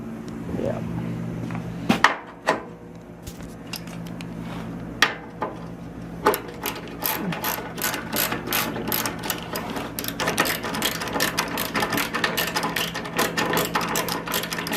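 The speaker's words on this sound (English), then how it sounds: "I like this ratchet. It's got a ratcheting handle, so you don't have to turn it." A hand ratchet with a ratcheting handle clicks through repeated bursts of sharp, close-up pawl ticks, sparse at first and then steady and rapid while the handle is worked on an old Sears tool.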